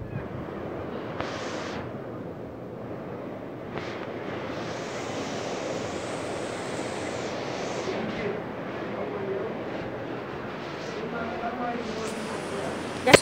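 Ocean waves surge and wash steadily on a beach, with wind buffeting the microphone and a person talking over the surf.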